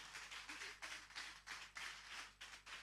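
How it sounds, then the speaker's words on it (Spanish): Church congregation clapping in bursts, with rhythmic waves of hand claps rising and falling over a few seconds, moderately distant in a large hall. "Fuertes aplausos para Cristo."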